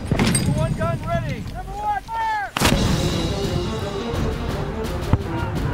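Heavy cannon booms in a nineteenth-century Canadian battle against the Métis at Batoche, one sharp loud blast standing out midway and another later, under dramatic voices and music.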